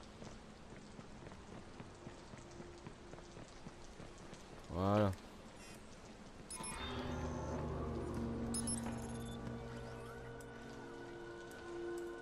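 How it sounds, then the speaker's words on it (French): Steady rain patter in the video game Watch Dogs fills the background throughout, with a brief rising tone midway and a person speaking a short word. "avec la pluie et tout, on voit rien."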